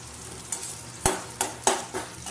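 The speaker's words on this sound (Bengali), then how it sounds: "একবার এদিকে নাড়ছি, একবার এদিকে নাড়ছি" Onions fry in a pan with a low continuous sizzle while a utensil stirs them, giving several distinct scraping knocks against the pan at an uneven rhythm.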